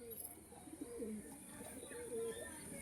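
Pigeons at a pigeon seller's coo softly in a few low, rolling murmurs, faint and close, with quiet background hiss.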